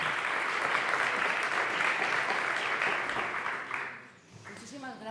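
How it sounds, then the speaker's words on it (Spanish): Audience applause at a round-table event rings out loud and sustained for about four seconds, then fades as a voice begins speaking. "Un aplauso,"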